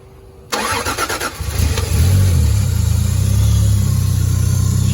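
Big-turbo Lexus GS300 engine cranks briefly with a stuttering starter, catches and settles into a loud, steady rumbling idle close by; no voices.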